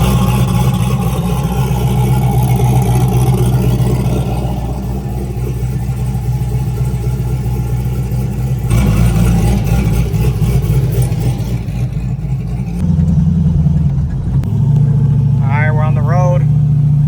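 A turbocharged Chevrolet Camaro fitted with a homemade cold air intake drives and accelerates, its engine droning loudly and continuously, with shifts and revving surges, while someone talks over it at times.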